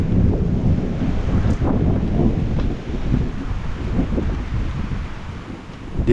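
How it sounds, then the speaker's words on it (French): Strong gusts of wind driving icy rain against a stone chapel porch, a loud continuous roar and rumble buffeting the microphone, swelling and easing in waves without a break. "bourrasques de vent qui poussent la pluie glaciale sous le parvis"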